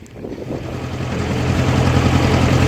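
A tractor engine runs steadily inside a farm shed, a low continuous rumble that grows slightly louder and stays close with no talk over it.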